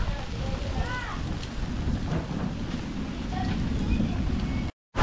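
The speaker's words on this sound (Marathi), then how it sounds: "पावसाचा आवाज होतोय. एकदम मस्त कडकडाट चालू आहे पावसाचा." First monsoon rain pours steadily in the Konkan, a dense hiss of downpour with low thunder rumbling beneath, a few faint chirps on top, and an abrupt short break near the end.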